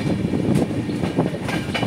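A passenger train on the Guwahati to Agartala line rolls along steadily, its carriages giving off a dense, continuous rumble with faint rhythmic wheel clatter close by, and no voices.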